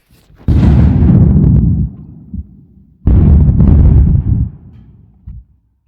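Quarry blasting charges set off by a blaster, heard as two loud, close booming blasts with long rumbling decay, the second about three seconds after the first.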